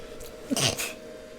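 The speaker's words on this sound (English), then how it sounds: "Oh, I just sneezed." A single close, sharp sneeze from one person, with a short breathy intake and then a burst, in a quiet indoor podcast setting.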